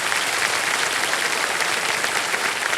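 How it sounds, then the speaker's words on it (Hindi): A studio audience on a television quiz show bursts into loud, dense applause, a continuous even roar of many hands clapping with no gaps and no voices over it. "तो एक बार फिर जोरदार तालियां बज जाएं प्रिया जी के लिए।"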